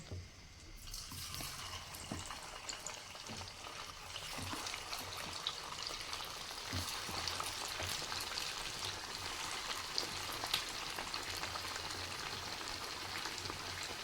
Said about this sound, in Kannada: ಆಗ ಈ ಥರ ಸಪ್ರೇಟ್ ಒಂದೊಂದೇ ಹಾಕಿದ್ರೆ ನೀಟಾಗಿ ಫ್ರೈ ಆಗುತ್ತೆ